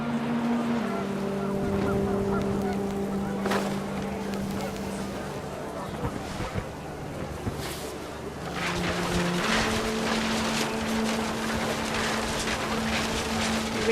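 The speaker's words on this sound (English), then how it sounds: "The wind picked up and panicked geese appeared and quickly went." Panicked geese honk in the video game What Remains of Edith Finch as the wind picks up, sustained honking calls over a steady rushing wind-like background, rising in intensity during the second half.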